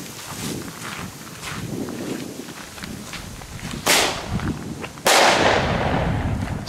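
Two sharp firecracker bangs go off outdoors, the second louder with a ringing tail of echo, after a stretch of low shuffling and movement.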